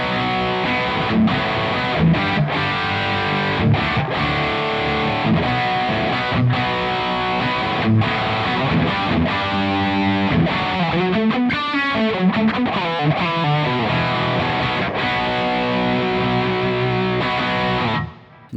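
A Soldano SLO 100 guitar amp with its gain set around the midpoint for high-gain drive chugs through distorted riffs, thick palm-muted chords and sustained notes, loud and up front, played alone before cutting off at the end.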